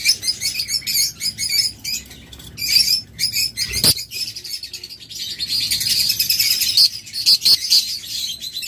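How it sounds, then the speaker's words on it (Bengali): Many small red-eyed cage birds, kept as breeding pairs, chirp in rapid bursts of high, sharp tweets, loud and close, with brief scuffling noises between the bursts. "অনেকগুলো পাখি রয়েছে আমাদের কাছে।"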